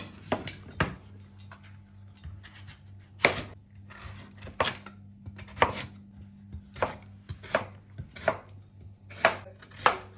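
Vegetables, including sweet potato, are chopped with a knife on a cutting board during home meal prep. Close, crisp strikes come in an irregular rhythm over a quiet kitchen hum, with no talking.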